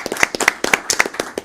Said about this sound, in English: why don't we give a round of applause for those students and their achievements?